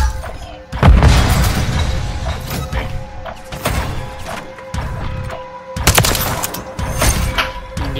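Grenade explosions in the shooter Call of Duty Modern Warfare 3, hardcore control match: loud bursts with shattering debris at two points, amid steady gunfire and battle noise, with a steady tone running underneath.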